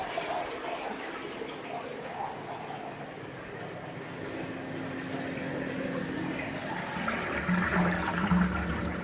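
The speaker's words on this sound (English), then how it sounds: "because we're pumping water in, the level will now start to rise." Water is pumped into a tank with a steady rushing, gurgling flow that holds on throughout and grows slightly fuller toward the end, with brief mechanical tones near the close.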